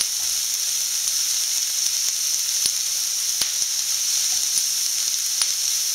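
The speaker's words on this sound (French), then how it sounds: "on mélange doucement le tout. Voilà, pour que les oignons dorent un petit peu." Onions frying gently in a pan for Spanish-style squid, a bright steady hiss of sizzling oil with a few sharp ticks and pops, close and continuous with no talk.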